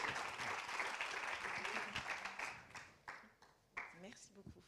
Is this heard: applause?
yes